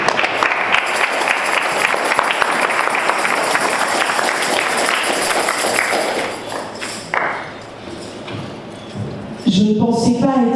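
A church congregation applauding after a call to acclaim the word of God, a dense, steady wash of clapping that thins out in the last few seconds as a voice begins.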